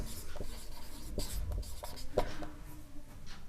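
Chalk scratches and taps on a classroom board during a maths lesson, in short strokes and rhythmic ticks, close and fairly quiet, with no talking.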